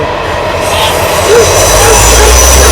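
A train rumbles past close by, loud and continuous, with a heavy low roar and steady rail noise filling the whole stretch.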